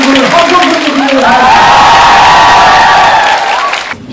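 Audience at a civil-service job interview lecture breaks into loud cheering and whooping over applause, with voices shouting, sustained for several seconds before abruptly dropping off at the end.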